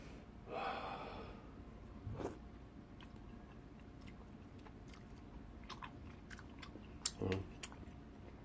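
Faint, close chewing and biting of convenience-store tteokbokki topped with snowflake cheese, with a few soft breaths and small mouth sounds scattered through a quiet background.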